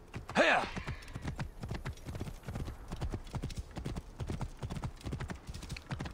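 A horse gallops at speed in Assassin's Creed Origins, dense rapid hoofbeats running steadily throughout, with a short louder burst near the start.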